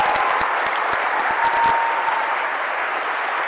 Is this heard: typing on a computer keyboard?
no